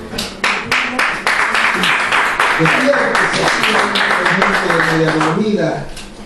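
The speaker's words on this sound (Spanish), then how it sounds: "Dale un aplauso al Señor," Church congregation applauding in steady, dense clapping over several seconds, with voices and shouts mixed in and musical tones running underneath.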